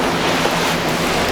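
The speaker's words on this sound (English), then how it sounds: "So water all my pea shoots and these bean plugs here." Pea shoots and bean plug seedlings being watered in a garden setting, a steady, unbroken hiss of spraying water that stays even and fairly loud throughout.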